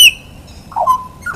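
A butcherbird sings close by in a short phrase: a high clear whistle, then a pause and a lower fluting note, with no talking.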